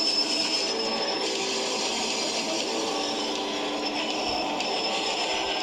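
A train runs in the video game Poppy Playtime Chapter 2, giving a steady, unbroken rumble with a high metallic wheel squeal layered on top. It holds constant and fairly loud throughout, with no voices.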